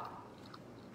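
A bite into hot deep-dish cauliflower pizza with a biscuit-like crust and gooey melted cheese gives soft, close chewing and mouth sounds throughout, with no talking.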